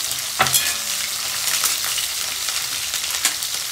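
Chillies deep-fry in hot oil with cumin and mustard seeds, a loud continuous crackling sizzle close by, marked by a few sharp spatters and stirring scrapes.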